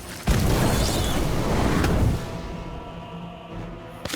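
An Incendio fire spell erupts in the wizarding game Harry Potter: Magic Awakened, a loud booming blast with a roaring burst of flame that holds for about two seconds, then fades into a low rumbling tail.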